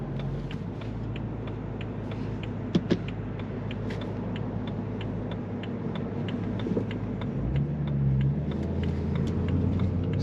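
A BMW E92 M3 engine hums steadily at cruising speed in automatic drive mode with a low rumble and road noise, swelling slightly near the end, with a couple of brief clicks.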